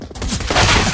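A loud burst of video-game gunfire from CS:GO, a dense, close crackle lasting under a second.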